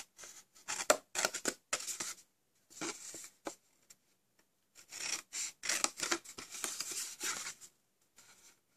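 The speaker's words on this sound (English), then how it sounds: "You've got to cut up all these to the score line as well." Scissors snip through stamped card up to the score line in a gift-box fold, producing quiet, close, irregular bursts of crisp cutting with short pauses between cuts.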